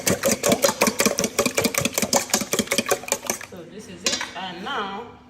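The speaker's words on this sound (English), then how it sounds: "now we mix everything together" Eggs and seasoning being mixed in a bowl, a fast, regular run of clinking utensil taps against the bowl that stops partway through, followed by a spoken voice.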